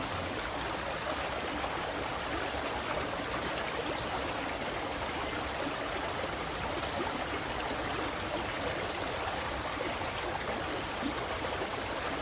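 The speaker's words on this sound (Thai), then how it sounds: "มันก็เลยทำให้เราได้ยินเสียงน้ำไหล" Water flowing and seeping through a small dam outdoors, a constant, dense rushing stream that holds at an even level throughout with no voices.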